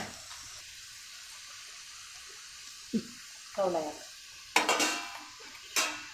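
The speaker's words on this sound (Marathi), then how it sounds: "फोडणी जरा भाजायला पाहिजे." A spice tempering for Malvani bangda fish curry fries with a low, steady sizzle, punctuated by several clanks and scrapes of a spoon and pot, with a short burst of voice partway through.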